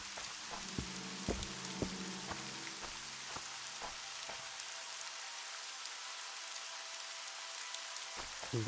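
Steady rain in The Witcher video game falls as a dense, even hiss with scattered droplet ticks, while low tones and faint thumps fade out midway, leaving the rain alone.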